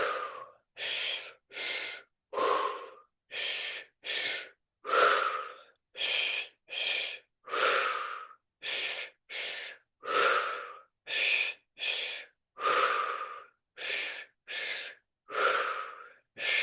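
Repeated deep breaths during a guided belly-and-chest breathing exercise, about fifteen loud, close inhale-exhale cycles in steady rhythm, open-mouthed and gasping, with no talking.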